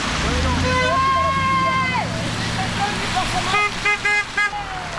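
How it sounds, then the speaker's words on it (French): Car horns honking at a Gilets Jaunes (yellow vest) protest in France, including large cars: sustained tones give way to several short, loud toots near the end over traffic noise, with people talking throughout. "Et même les grosses voitures klaxonnent."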